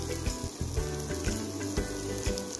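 Onions and chopped green chilies fry in a pan, a steady close sizzle with soft stirring and scraping bursts recurring through the short stretch, no talking over it.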